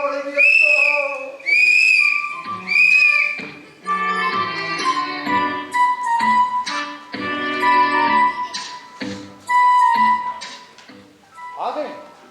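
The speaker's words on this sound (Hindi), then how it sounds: "और फिर सीटी" Three shrill, drawn-out whistle blasts ring out loudly at the start. Voices then talk over the remaining sound.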